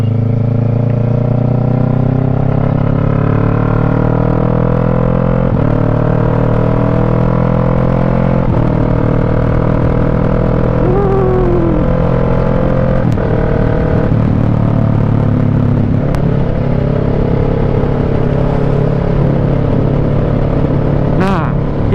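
Motorcycle ridden with clutchless gear shifts, its engine droning steadily at close range while the pitch climbs and then drops back at each quick shift, repeated several times over the run.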